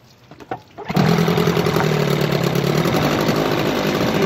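A 1976 Johnson 25 HP electric-start outboard motor, freshly repaired, fires up after a few soft knocks and settles into a loud, steady idle.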